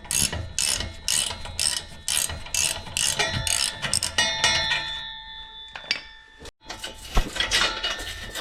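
Ratchet clicking steadily as a factory muffler bolt is backed out on a 5th-gen Ram 1500 with the 5.7 Hemi, close-up rapid pawl clicks in bursts with short pauses and light metallic clinks.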